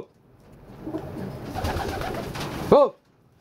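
Pigeons nesting in a loft, a low rumbling coo building for a couple of seconds, close and moderately quiet, ending in a brief sharper call.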